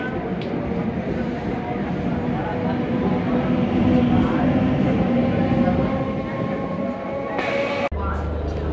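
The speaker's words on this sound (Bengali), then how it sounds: "আমি এখন যে স্টেশনে দাঁড়িয়ে আছি এটা হলো চেন্নাই এগমোর স্টেশন" A train rumbles through Chennai Egmore railway station, a loud continuous rolling clatter with station announcement tones near the end and background crowd noise.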